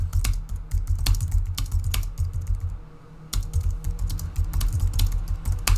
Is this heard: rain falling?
no